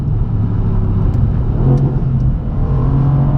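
A 2017 Mercedes C63 AMG S Coupe engine pulls hard under acceleration, a loud, steady mid-range roar heard from inside the car while it is driven quickly, with no talking.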